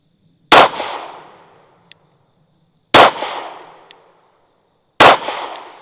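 Three sharp pistol shots from a Springfield Armory Prodigy ring out at steady intervals, each a loud crack with a ringing tail, plus a faint metallic clink between them.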